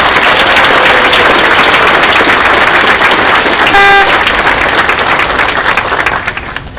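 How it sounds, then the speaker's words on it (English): A commencement crowd claps loudly for first responders and military members, a thick, sustained roar of applause with a short car-horn-like tone cutting through near the middle before the clapping tapers off at the end. "Please join me in giving a round of applause for these groups"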